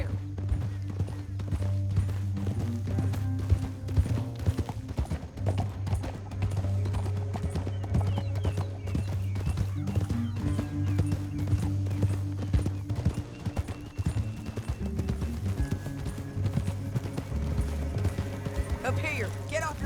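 Horse hooves gallop in the Western video game Red Dead Redemption 2, a rapid, continuous clip-clop close by under the game's music and occasional snorts, while characters talk over the riding.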